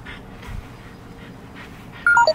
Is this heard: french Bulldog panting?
yes